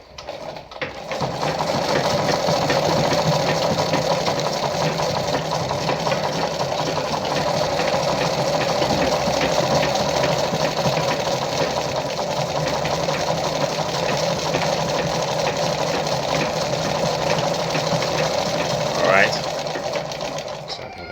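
A Lada model 237-1 sewing machine runs steadily while sewing a tight zigzag stitch, its motor and needle making a loud, continuous mechanical whir for about twenty seconds before winding down at the end.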